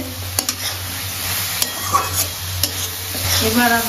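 Spice paste for a cabbage and prawn dish frying in oil, stirred with a spatula that scrapes and clacks against the pan in sharp taps over a steady sizzle, close up, with a brief spoken phrase near the start.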